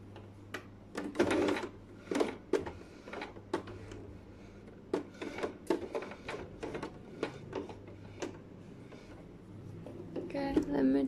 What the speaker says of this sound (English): Make sure you're sewing a straight line